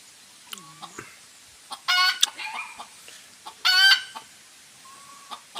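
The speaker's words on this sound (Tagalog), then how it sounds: "Pumuputak." A hen cackles in loud, sharp bursts, with quieter clucks and chirps scattered between them and stretches of near silence.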